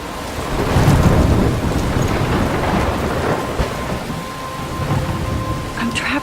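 A thunderstorm in the video game Life Is Strange, with a steady heavy wash of rain and low rumbling thunder that swells loudly early, then continues evenly with no talking.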